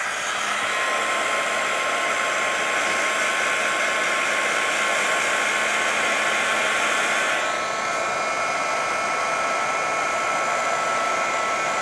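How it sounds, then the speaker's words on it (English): A heat tool blows steadily to dry damp cardstock, a loud continuous airy whoosh that runs without a break and shifts slightly in tone partway through. "I'm going to hit it with my heat tool just to speed up the drying"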